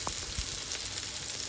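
Steady sizzling of chicken chap shallow-frying in a little oil, close and continuous, with a few brief pops and stirring sounds, no talking.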